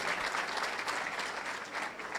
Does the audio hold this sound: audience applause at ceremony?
yes